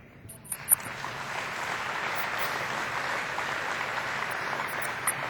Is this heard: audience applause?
yes